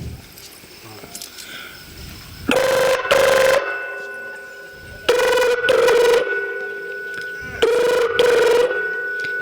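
A telephone rings while a call is placed to a police station, in three loud, evenly spaced bursts of electronic ringing separated by short pauses, with brief speech before the first ring.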